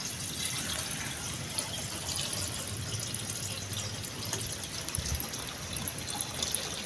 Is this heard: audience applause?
no